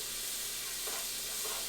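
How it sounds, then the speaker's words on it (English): Bacon browns in a pan with a steady, close, bright sizzle and hiss, unbroken and even for the whole short stretch, with no voices. "I'm just going to get this bacon browned and crumbly"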